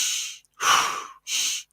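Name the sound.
Wim Hof style breathing exercise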